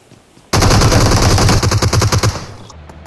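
Automatic rifle fire in the BGMI battle royale game, a loud sustained burst of rapid shots that starts abruptly and ends in a few stuttering rounds.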